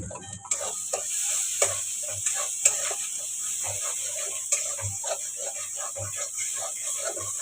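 Paneer spice masala with turmeric, salt and a little sugar fries in oil and is stirred in a pan, a quiet sizzle under rhythmic soft thumps and scrapes of the spatula, with a voice speaking over it.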